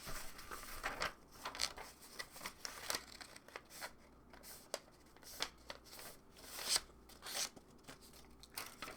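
Paper folded by hand, a quiet run of soft crinkles, creases and rustling taps in uneven bursts, close and alone with no talk.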